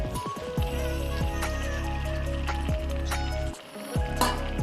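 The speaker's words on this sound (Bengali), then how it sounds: "হালকা অল্প একটু জল দিয়ে দেবো।" Water poured into a hot pan of boiled potatoes, setting off a steady loud sizzle close by, with a few sharp clinks of a utensil against the pan.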